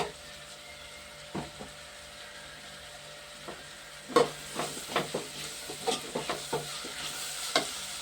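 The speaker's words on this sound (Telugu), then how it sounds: "వేగుతున్నాయండి ఉల్లిపాయ ముక్కలు" Onion pieces frying in a pan, a low steady sizzle broken by intermittent spatula scrapes and taps that grow more frequent in the second half, with no voices.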